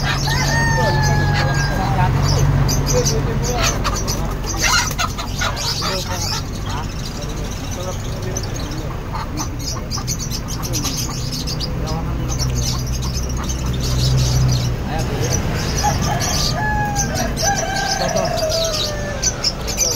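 Native chickens at a poultry seller in Balagtas, Bulacan, clucking, with crows rising now and then over steady nearby talk and background bustle.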